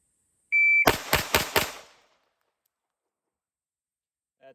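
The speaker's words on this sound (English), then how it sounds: "So let's get to shooting and see what our split times are for this thing." Four quick pistol shots crack from a Smith & Wesson M&P 2.0 fitted with an Apex trigger, a rapid close string after a short electronic start beep, then silence.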